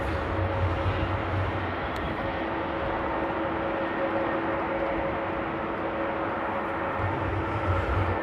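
A China Airlines A350 airliner taxiing at Amsterdam Airport on a rainy day, a steady distant engine whine and rumble with a faint tonal hum, continuous and even throughout.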